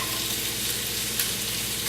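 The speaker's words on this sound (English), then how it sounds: "I'm hearing the sizzle," Bacon frying in a pan, a steady close crackling sizzle that stays even throughout, with one faint clink partway through and no voices.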